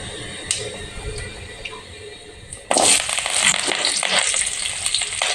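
Cinnamon, cloves and fennel seeds hit hot oil for a mushroom gravy, a faint quiet hiss jumping abruptly into a loud, steady crackling sizzle that carries on to the end with no talking.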